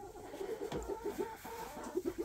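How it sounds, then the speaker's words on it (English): Soft, repeated clucking from a hen, short rhythmic notes over a low background rustle, fairly close. "So now I have a new hen in the box."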